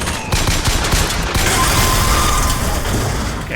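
Rapid bursts of gunfire in the video game BioShock Infinite, a dense loud fusillade of overlapping shots with mechanical clatter, continuous across the whole stretch before easing slightly at the end.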